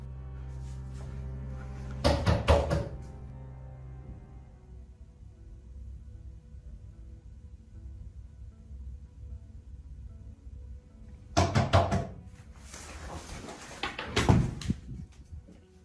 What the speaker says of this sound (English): he was woken up again by knocking